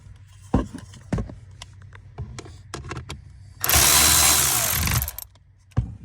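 An HRV blower motor mount is worked on: a few sharp clicks and taps, then a power tool whirs loudly for about a second and a half while tightening a bolt up close, before a final knock.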